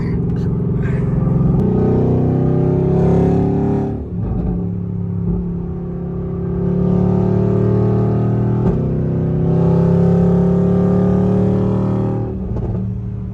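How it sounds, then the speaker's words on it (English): A Mercedes-AMG GT R's engine drones loud and close through its exhaust, swelling and easing in long revving waves with a deep, throaty rumble. "Sounds so good with the exhaust, man."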